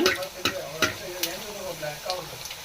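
Puri fries in hot oil with a close, bubbling sizzle broken by sharp splutters and pops, while a voice talks over it.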